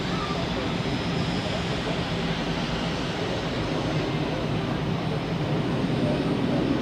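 A United airliner rumbles steadily on the runway at Zurich Airport, an even, broad engine roar from a distance. Faint talk runs underneath.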